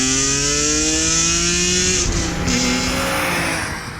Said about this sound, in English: That distinctive inline 6 noise it produces is fantastic in the standard car, but in the CSL it is absolutely something else.